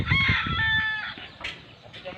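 A rooster crows loudly and close by, its drawn-out call rising and holding before trailing off, followed by softer clucks and farmyard noise.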